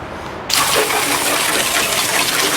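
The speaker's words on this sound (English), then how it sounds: "let's hose down under the hood" A strong, steady spray of water hoses down the engine bay under the hood of a 1964 Chevy II, bursting on suddenly after a brief quiet start and then gushing continuously and loudly with no talking.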